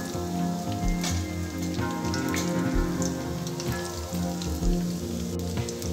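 Seasoning seeds and onion pieces fry in hot oil, making a dense, rain-like crackle that stays loud and constant throughout, with a low tonal hum underneath.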